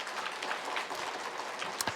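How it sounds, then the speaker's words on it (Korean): A church congregation at a Sunday sermon breaks into brisk, continuous clapping that fills the room at an even level for about two seconds. "우리 예수님 위해서 박수 한번 쳐드리세요"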